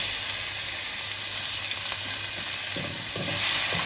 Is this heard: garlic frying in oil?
yes